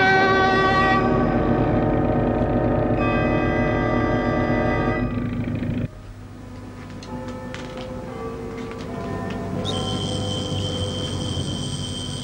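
A train at a station, heard as a steady rumbling, hissing mechanical drone that changes partway through, with a tonal whine or whistle joining near the end; no talking.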